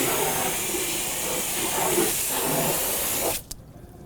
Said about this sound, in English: Now I'm spraying the face of the wheel, the tire, and into the barrel